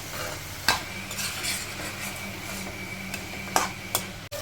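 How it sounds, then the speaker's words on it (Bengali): Cabbage cooked with fish head is stirred in a pan over a high flame, a close, constant sizzle punctuated by a few sharp scrapes and taps of the spatula. "আর বাঁধাকপি একবার হাই ফ্লেমে নাড়াচাড়া করতে থাকবো।"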